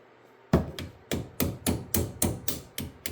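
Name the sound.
hammer and punch driving out a Lotus Elise brake caliper pin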